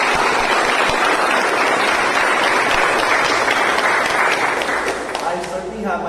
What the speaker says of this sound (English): I think that evaluation definitely deserves a better round of applause, Prasim.